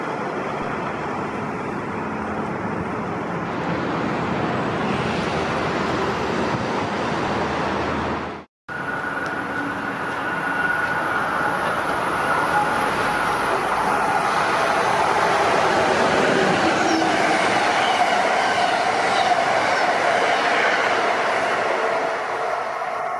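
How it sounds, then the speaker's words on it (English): Amtrak 95, led by ACS-64 locomotive 659, tears past at 90 mph with a loud, sustained rushing roar and rumble. A brief abrupt dropout comes partway through, then the steady roar of the passing cars returns. "that was Amtrak 95 with ACS 64 659 on the point, tearing by at 90 miles per hour"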